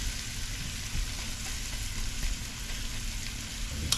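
Shrimp frying in oil and butter in a pan, a steady close crackling sizzle with a fine, rain-like spatter that runs unbroken throughout, with no talk.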